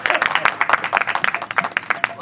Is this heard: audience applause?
yes